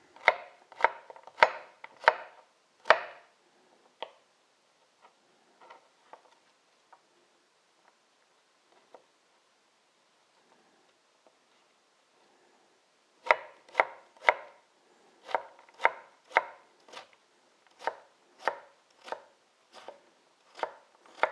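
A knife chops celeriac on a cutting board for soup: a quick run of sharp, close knocks, a long near-silent pause with a few isolated taps, then another steady burst of evenly spaced chops.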